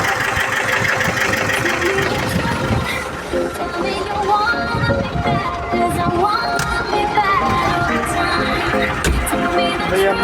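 A YUMZ 8073 tractor runs with a Fortschritt K 454 hay baler while baling hay, a loud, steady engine drone with rhythmic mechanical knocking, and someone talks over it.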